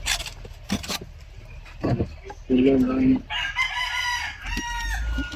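A rooster crows loudly nearby, its drawn-out call rising and falling, with some clucking from other fowl and faint background noise.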